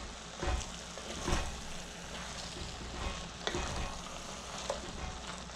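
Poi saag (Malabar spinach) greens frying in a pan as they are stirred, a steady close sizzle with a few louder scrapes and bumps of the spoon scattered through.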